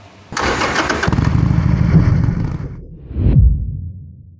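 A Harley-Davidson Sportster Iron 883 motorcycle engine cranks and catches, roaring briefly before settling, then revs once more, loud and close.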